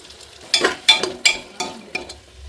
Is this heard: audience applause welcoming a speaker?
no